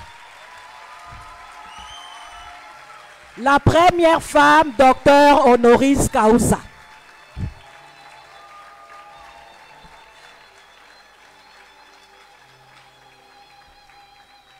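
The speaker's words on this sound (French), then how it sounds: "Veillons l'applaudir encore un peu plus fort." At an honorary doctorate ceremony at the University of Kinshasa, an audience applauds in a faint, distant, sustained patter before and after a loud spoken announcement.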